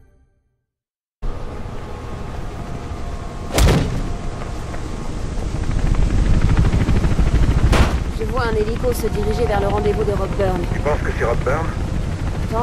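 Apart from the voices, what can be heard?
police helicopter in Mirror's Edge video game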